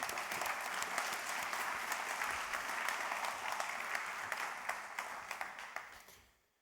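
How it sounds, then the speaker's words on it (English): A conference audience applauds the EU Commissioner at the EARTO annual conference, sustained dense clapping from a large hall that holds steady, then thins to scattered claps and fades out. "Please, a big applause."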